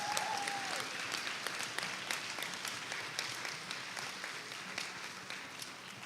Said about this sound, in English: give my wife and daughter a round of applause